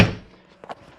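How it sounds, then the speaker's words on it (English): A single soft thunk of an RV door shutting on a Coachmen Catalina 303QBCK travel trailer, brief and fairly close, followed by a faint click. "And I'll close our door,"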